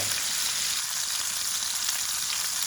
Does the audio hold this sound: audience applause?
no